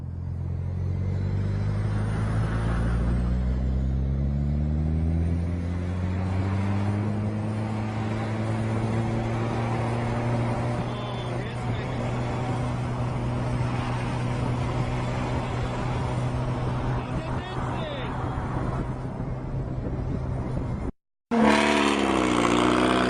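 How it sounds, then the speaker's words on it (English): A car engine roars in a long, sustained rising and falling drone while drifting, loud and steady throughout, and cuts off briefly near the end. "pretty much anything with 4 wheels and an engine can drift these days"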